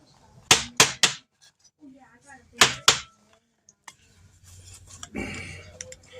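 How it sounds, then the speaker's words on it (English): Onions are shredded for fried potatoes, heard as sharp, crisp scraping strokes in two quick clusters of three and two, followed by quieter ticks and a softer rustling stretch near the end. "So I'm shredding these onions."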